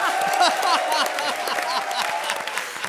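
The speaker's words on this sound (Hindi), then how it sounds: "ठोको ताली" A studio audience claps steadily throughout at a comedy show, a dense patter of many hands at moderate volume with no pauses.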